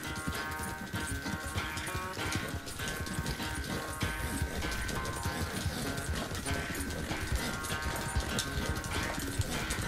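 A horse gallops in Red Dead Redemption 2, its quick rhythmic hoofbeats running steadily throughout under a game music score, with a brief snort or whinny mixed in.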